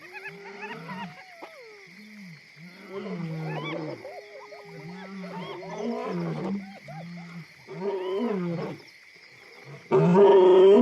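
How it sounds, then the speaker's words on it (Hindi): A male lion roars at night in the Luangwa Valley, a series of deep, rumbling calls in a rhythmic sequence that swells and fades, fairly close and loud, ending with a stronger burst. "नर शेर रात में ज्यादा जोश से दहाड़ते हैं और उनकी दहाड़ लुआंगवा घाटी में 8 किलोमीटर तक गूंजती है।"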